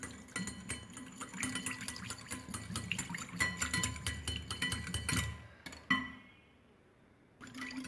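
Sugar and salt being mixed into sour yogurt for a ripe papaya lassi, with quick spoon clinks and scraping against a bowl, fairly close, ending in a sharp knock and a short quiet stretch.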